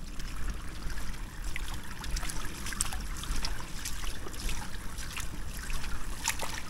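Cold flood water near Steinhuder Meer sloshes and trickles as someone wades through it barefoot, a soft continuous splashing close by with scattered small splashes and no voices.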